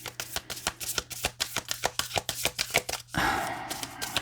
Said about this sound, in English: This deck has been really great today, but it does take a while to shuffle out a message.